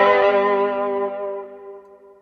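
A custom shop Stratocaster through a '57 Twin with delay from a Line 6 HX Effects unit plays a single ringing chord that fades slowly over two seconds with repeating echoes.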